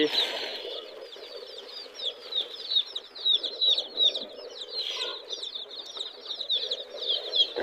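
A crowd of native chicks peeps and chirps continuously and excitedly close by, with soft rustling and pecking underneath while they are fed.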